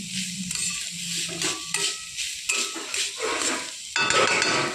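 Banana stem (thor) is tossed with spices, including Kashmiri chilli, in a pan: a spatula scrapes and clatters against the metal in uneven strokes over a light sizzle, close and fairly loud.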